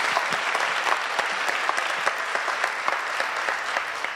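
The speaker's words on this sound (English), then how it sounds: "Please join me in thanking Kathy," A luncheon audience applauds, a dense sustained round of clapping with crisp individual claps standing out, steady and fairly loud throughout.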